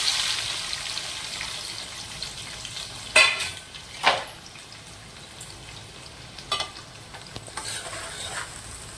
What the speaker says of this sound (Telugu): కాగింది మనం ఉల్లిపాయ ముక్కలు వేస్తాము